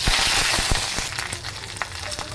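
Mustard seeds, cumin and curry leaves crackle in hot oil for tempering, a busy, hissing sizzle with sharp pops scattered through, close and moderately loud.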